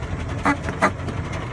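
A 1912 Cadillac engine idling, a low steady rumble with a couple of soft periodic chugs standing out near the start, heard alone.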